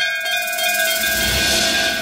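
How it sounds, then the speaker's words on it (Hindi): Bells rung together in a cartoon give a loud, sustained metallic chime with steady ringing overtones that fills the whole moment, with no speech over it. "चलो दोनों एक साथ मिलके इस घंटी को बजाते हैं।"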